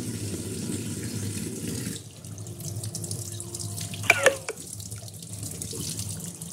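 Tap water runs steadily into a sink while fish is washed, with a brief pause and a few clinks partway through, then the flow resumes alone with no talk.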